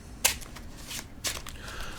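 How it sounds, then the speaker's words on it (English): A deck of Lone Wolves game cards being shuffled by hand at close range, with two distinct riffle bursts about a second apart followed by softer card shuffling, and no talking. "So these get shuffled and each player will receive 13 cards"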